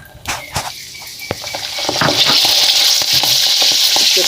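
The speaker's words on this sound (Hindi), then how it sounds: "इसे भी हम वैसे ही फ्राई करेंगे जैसे बाकी को किया था।" Homemade mix nimko frying in hot oil, a steady close sizzle that builds and stays dense, with a few stirring clinks and scrapes near the start.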